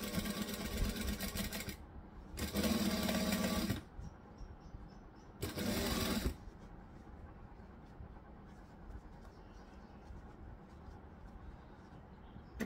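Sewing machine stitching fabric in two short bursts of rapid mechanical whirring, each lasting a second or so, separated by quieter handling noise, fairly close and alone.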